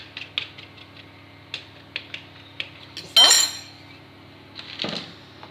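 A fork pricks quiche pastry dough, giving a series of light clinking taps against the tin at an irregular pace, with a louder scraping clatter midway and no talk over it.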